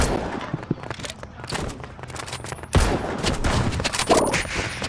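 Gunfire in the Roblox Rivals shooter game, with scattered shots and rapid bursts of varying loudness layered over busy game sounds.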